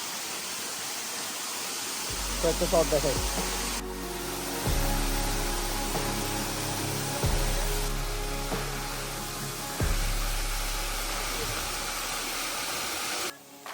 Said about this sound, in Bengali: ঝর্ণাটা সুন্দর আছে